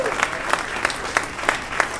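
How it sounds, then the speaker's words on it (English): Audience applause at a book reading of music writers, a steady wash of many hands clapping with sharp rhythmic claps rising above the crowd, full and close throughout. "Give them both a real big round of"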